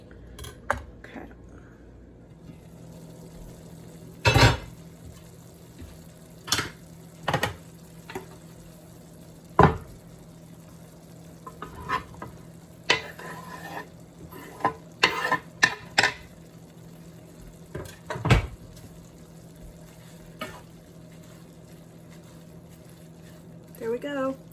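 Ground beef and rapini stirred in a pan, with scattered scraping and clinking knocks of a utensil against the pan over a low steady hum, several sharp strokes spread through the stretch.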